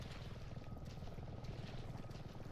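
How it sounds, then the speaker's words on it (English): A helicopter in the horror video game Resident Evil 7 drones with a dense, steady rotor whir, loud and continuous over a few seconds. "Helicopter!"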